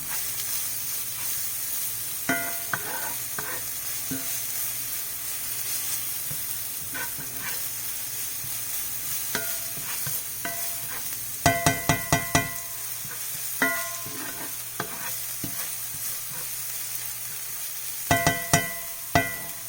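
Onions, shallots and garlic frying in a pan for shrimp and chicken fried rice, a steady soft sizzle with intermittent sharp clicks and taps of stirring, close and without talk.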